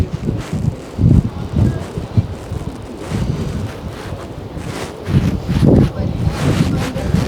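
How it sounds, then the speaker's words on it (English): Gusty wind on Santorini island buffets the microphone in uneven, rumbling surges that rise and fall throughout, loud and close, with no talk. "You can hear the wind just blowing."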